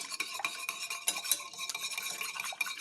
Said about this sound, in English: like my little whisk, you just want to whisk that together